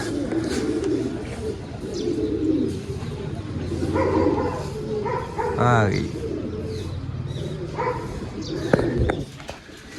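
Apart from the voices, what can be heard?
pigeons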